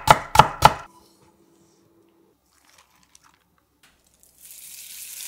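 A knife cuts carrot into thin strips on a cutting board: three quick, sharp chops at the start, then near silence before a faint rustling hiss rises at the end.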